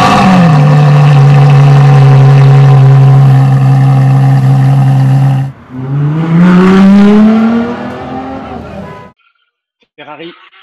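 A Ferrari V12 roars loud and close, holding a steady high-revving note, dropping briefly, then climbing again in a rising rev before cutting off, with a short voice at the end.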